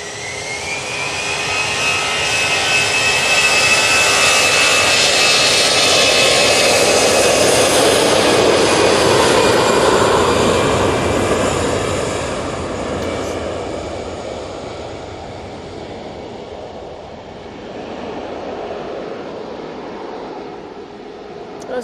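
An easyJet jet airliner departs Manchester Airport bound for Belfast, its engines building to a loud, whining roar with a rising high-pitched tone, then slowly fading into a distant rumble.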